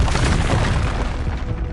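Arresto Momentum spell cast in Hogwarts Legacy, a dense, booming magical burst that holds steady and loud across the whole moment with no pause.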